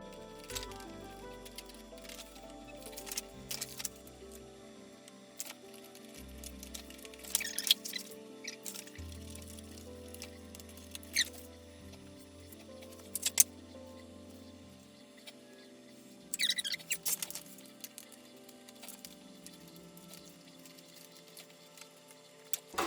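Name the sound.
scissors trimming shelf and drawer liner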